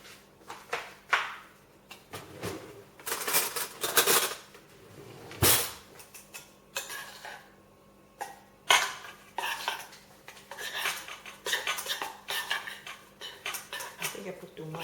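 A spoon stirs cocoa powder into a vegan ice cream mix. It scrapes and clinks against the bowl in irregular, close clatters with pauses between.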